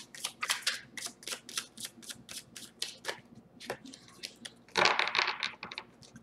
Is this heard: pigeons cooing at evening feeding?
no